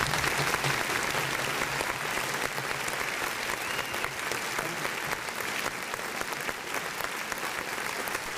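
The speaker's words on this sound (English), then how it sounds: "Let's give him a big round of applause, y'all." A studio audience claps steadily for a guest, sustained applause holding at an even level from start to finish with no talk over it.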